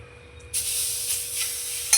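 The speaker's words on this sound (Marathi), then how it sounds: "कढईमध्ये आम्ही पुरण टाकत आहोत कढई तापलेली आहे बघा" Mashed puran filling drops into a hot kadhai and sizzles sharply at once, a steady frying hiss with a scrape near the end and no talk.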